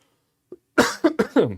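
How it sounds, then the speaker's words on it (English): A man coughs several times in quick succession, close and fairly loud, after a faint short throat sound, with no talk around it. "Problem without editing is you get to hear me cough"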